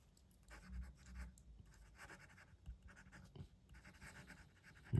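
A fine-nib fountain pen filled with Pilot Iroshizuku ink scratches across paper in faint, close strokes with short pauses between them, ending in a sudden louder bump.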